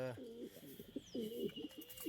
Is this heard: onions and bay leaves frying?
no